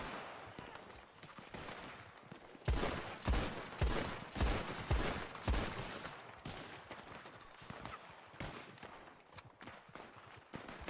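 Gunfire during a multiplayer shootout in the Western role-play game WildRP, irregular loud rifle and pistol shots cracking in clusters over several seconds, some near and some distant, with sparse background chatter.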